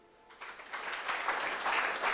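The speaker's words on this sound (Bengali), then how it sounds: "এদের জন্য একটু হাততালি" Small crowd at a network marketing seminar clapping for small business owners, broadband applause swelling from scattered claps to a steady, fairly loud patter for about two seconds.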